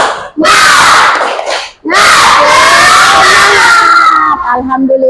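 A classroom of children loudly shouts and chants the 'tepuk semangat' cheer in unison, two bursts of group voices, close and very loud, with little distinct clapping.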